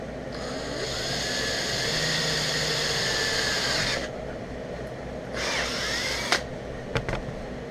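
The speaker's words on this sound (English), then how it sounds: "I'm going to drill a hole in the center of this cap." A power drill whines loudly and steadily for several seconds while drilling a hole in the center of a cap, stops, then runs again in a short burst, followed by a few sharp clicks.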